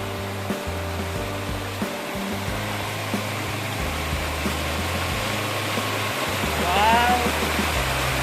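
A small mini waterfall at San Gonzalo, Labrador, Pangasinan rushes in a steady, broad wash of falling water, with low rumbling tones and a brief voice near the end.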